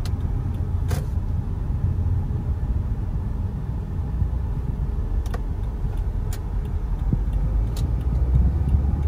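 A Perodua Myvi with a 4-speed automatic pulls away in first gear, its engine and road rumble steady and close throughout, with a few faint ticks over the top and no voices.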